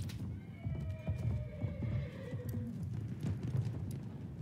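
A cavalry horse in Battlefield 1 gallops past with rapid clip-clopping hooves and lets out a whinnying neigh partway through, heard at moderate distance amid faint battlefield noise.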